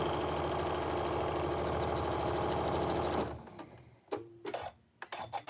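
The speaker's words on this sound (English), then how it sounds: "I'm just going to sew that piece on there." Sewing machine stitching a fabric surgical face mask, a close rapid mechanical whir for about three seconds that stops, followed by quieter handling noises and clicks.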